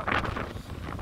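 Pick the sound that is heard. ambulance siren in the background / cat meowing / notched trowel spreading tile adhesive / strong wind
strong wind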